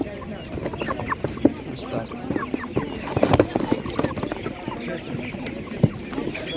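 Chickens and a rooster cluck in a busy animal market, with short scattered calls near and far over a murmur of crowd noise and people talking.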